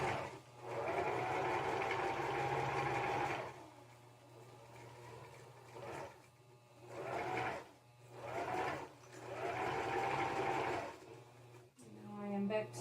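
A sewing machine stitches a yarn cowl in four whirring runs of varying length, the motor humming up and stopping between bursts, close by with no talk.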